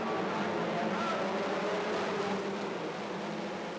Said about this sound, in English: The revs rise, the lights go on. They go out.